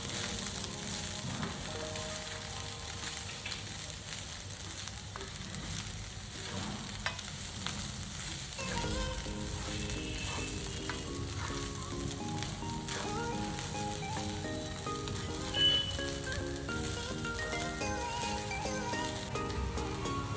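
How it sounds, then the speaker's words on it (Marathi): Soaked poha is tipped into a hot pan with onions and gently stirred, giving a steady, moderate sizzle and frying crackle with soft scraping of the spoon throughout, under a faint musical tone. "आता आपण ह्यामध्ये टाकणार आहोत भिजवलेले पोहे. हलक्या हाताने आपल्याला हे मिक्स करून घ्यायचे आहे."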